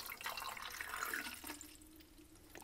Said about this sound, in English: pour the developer in.